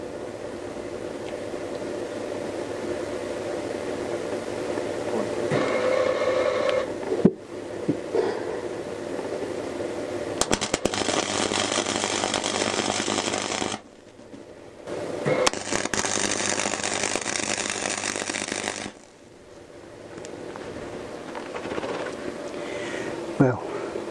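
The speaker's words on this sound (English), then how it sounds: "See if we can't weld it on there." Arc welding a nut onto a broken exhaust stud on a Honda CBR1000F motorcycle, two sustained bursts of crackling buzz of roughly four to five seconds each, loud and close, with pauses and background noise between them.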